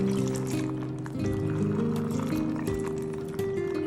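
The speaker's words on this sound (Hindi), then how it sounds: "अब हमने जो ऑयल गरम किया हुआ है उसको हम इस बर्फ़ वाले पानी में डाल देंगे।" Heated oil poured into a bowl of ice water while making homemade puff pastry, a steady liquid pour and trickle with faint splashing, close and fairly quiet, with no talking.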